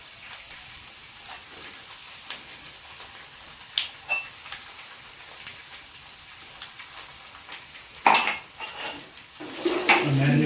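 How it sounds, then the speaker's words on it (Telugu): Ginger, garlic and turmeric being mixed into a marinade in a bowl for crispy puffed-rice snacks, heard as scattered soft stirring clicks and scrapes, then a louder burst of mixing near the end. "వేసుకొని మ్యారినేట్ చేసుకుంటూ కలుపుకోవాలి"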